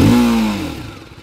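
TVS Apache RTR 310 motorcycle engine given a quick throttle blip, a single loud close rev that rises sharply and then trails off as the throttle is released.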